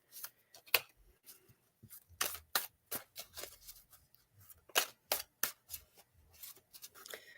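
Homemade Lenormand cards, a bit awkward to handle, being shuffled: a series of crisp, irregular snaps and riffles, close and fairly quiet, with no talking.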